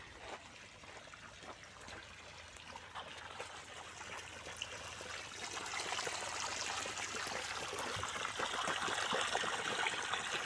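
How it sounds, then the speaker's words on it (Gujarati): Water trickles and flows along an irrigation channel feeding Israeli date palms outdoors, a faint, continuous burble that grows slightly fuller toward the end. "અત્યારે આપણે ખારેકમાં પાણી પાવાનું ચાલુ છે"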